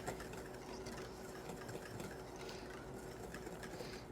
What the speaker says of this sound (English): What we're going to be doing is whipping this to a nice firm peak